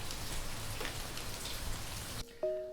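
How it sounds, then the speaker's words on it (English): Steady rain falls on a surface in a dense, continuous hiss and patter for most of the clip, then breaks off abruptly into near silence with a faint tonal sound. "So it's raining"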